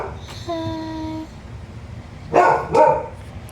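A dog named Oscar gives two sharp, fairly close barks near the end, as if someone is outside. They are preceded by a soft whine and a thin tonal squeak over low room noise.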